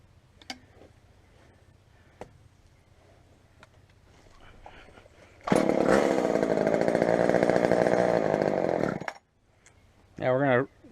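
A Poulan chainsaw engine runs loudly for a few seconds and then cuts out, after quiet clicks and ticking; near the end a short burst of wavering engine sound comes back as it tries to keep idling.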